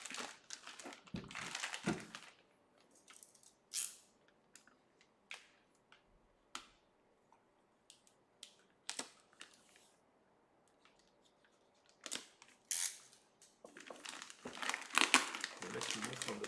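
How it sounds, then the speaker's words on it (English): Plastic wrapping being pulled off a Synology RS1221+ rackmount NAS during unboxing, heard as bursts of close crinkling and rustling with quiet gaps between handling sounds, swelling into denser crackling near the end. "Let's remove from the plastic and let's see what we have."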